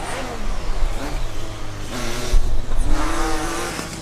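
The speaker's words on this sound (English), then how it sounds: "The car from Stralsund does sound quite nice as it drives past" Formula Student combustion race car from Stralsund at an endurance event, engine revving loudly as it passes close by with on-off throttle bursts and rising and falling pitch.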